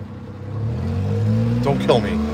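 A truck engine runs steadily and rises slightly as the vehicle pulls away, a close mid-pitched rumble with a brief higher mechanical squeal near the end.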